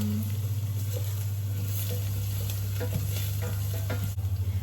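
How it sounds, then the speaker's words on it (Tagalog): Garlic sizzles with browned onion in a hot frying pan, a steady close crackling fry with stirring scrapes and a constant low hum throughout. "kapag medyo naging kayumanggi brown yung sibuyas, lagyan na tayo ng bawang"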